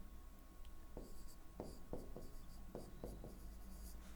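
Chalk or marker writing on a board during a physics lecture, heard as a series of short scratchy strokes at a close, steady level over low room hum, with no talking.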